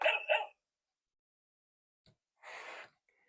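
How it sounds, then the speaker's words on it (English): Two quick woofs from a dog in a noisy pets sound book open the clip, followed by silence and then a single later bark-like sound, all close and clear. "Rub the dog's tummy to hear her woof woof."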